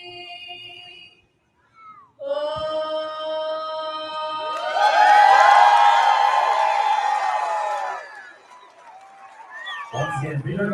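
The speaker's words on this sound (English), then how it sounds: "Once again, big round of applause for Bella Porter." A stadium crowd applauds and cheers loudly after a sung God Bless America at a ballpark, swelling to a broad roar midway, while a voice continues over the start and the end.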